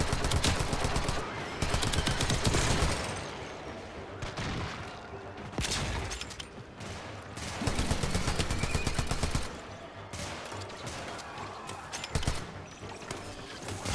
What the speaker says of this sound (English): It's like a machine gun pistol.